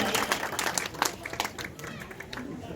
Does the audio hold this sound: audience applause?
yes